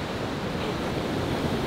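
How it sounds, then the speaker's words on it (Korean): Strong surf breaking on Seminyak beach in Bali, a steady broadband wash of water and wind that stays loud and unbroken, with no voices. "근데 파도가 너무 세가지고 한번 파도가 들어왔다 나가면은 쓸려 내려가는 기분이 있어"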